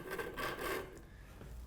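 Pencil lead rasping across a wooden chair stretcher while a line is drawn, a close dry scratching in a few quick strokes that fades after about a second.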